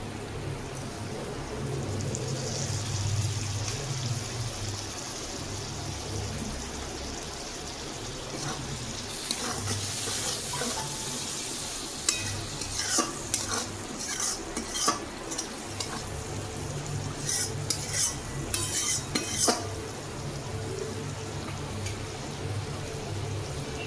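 Spice paste sautéing and being stirred in a pan for a lentil dhoka curry, a continuous crackling sizzle with repeated scraping spatula strokes that grow busier toward the end, close and steady.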